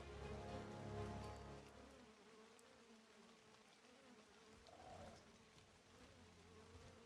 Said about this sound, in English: What's that buzz?